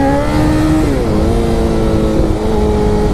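A motorcycle engine is held at steady high revs in the power band for a wheelie, a loud close droning whine whose pitch dips slightly and then holds.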